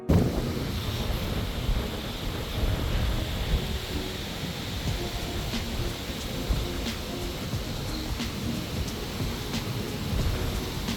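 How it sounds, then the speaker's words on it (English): Ocean waves and strong wind at a beach resort in Playa del Carmen after Hurricane Beryl, a loud continuous roar of surf and gusting air buffeting the microphone, with no voices. "I'm gonna get closer later, but look at the ocean."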